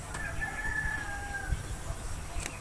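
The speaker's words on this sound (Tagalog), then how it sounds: "Uy, may manok oh." A rooster crows once in the distance, a drawn-out call over a low rumbling background.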